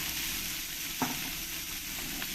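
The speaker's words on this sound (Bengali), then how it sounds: "এবার এখানে যে লাউগুলো কেটে নিয়েছি লাউগুলো দিয়ে দেবো" Raw bottle gourd pieces tumble into a pan of sizzling fried potatoes and green chillies, a steady loud frying hiss with one brief stir or drop sound in the middle.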